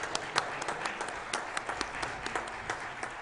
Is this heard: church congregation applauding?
yes